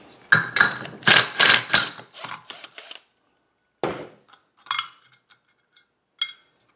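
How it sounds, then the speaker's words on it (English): A 22 mm socket wrench loosens a pulley nut on a Toro LX500 lawn tractor, giving a close burst of rapid ratcheting clicks followed by a few separate knocks. "I got a 22 millimeter socket to take off this nut."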